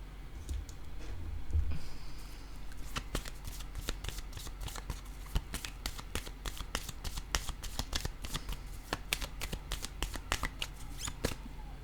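Tarot cards shuffled and handled close up, with dense, rapid papery riffles and clicks running nearly continuously, softer at first and growing busier after a few seconds, as cards are laid down.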